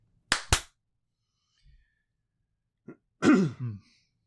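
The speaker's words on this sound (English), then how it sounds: "Clap in 3, 2, 1." Two sharp hand claps in quick succession, then quiet, followed later by a throat-clearing grunt.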